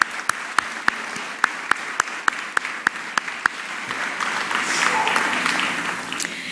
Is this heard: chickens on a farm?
no